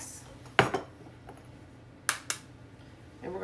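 Two eggs cracked against a bowl rim while making monster cookie dough: a pair of sharp tapping clicks, a pause, then another double tap, close and crisp, with faint kitchen handling noise around them.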